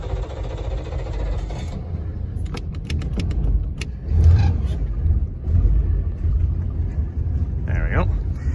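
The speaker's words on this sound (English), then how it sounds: "It is a carbureted motor, so it's not fuel injected" A carbureted inboard motor on a 1998 Tiqa 2050WT boat cranks and catches, then settles into a steady low rumbling idle, close and loud, with a whining tone near the end.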